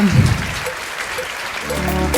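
An audience at an international awards ceremony applauds in a dense, steady wash of clapping throughout, with music faintly rising near the end.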